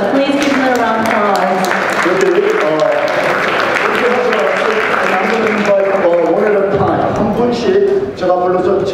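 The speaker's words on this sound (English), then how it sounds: "Please give them a round of applause." An audience claps in a sustained round of applause at a bilingual Korean and English event, loud and close, with voices or music mixed in throughout.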